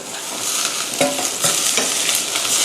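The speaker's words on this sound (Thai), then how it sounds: "ผัดโลด" Cabbage and carrot stir-fry in a hot pan for borscht, a loud, close sizzle with scraping stirs throughout and no voices.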